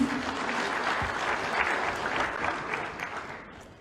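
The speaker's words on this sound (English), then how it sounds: "Round of applause for him, please" Sustained applause from a crowd at a Zambian political gathering following a musical performance, a dense steady wash of clapping holding at an even, loud level for several seconds before easing slightly.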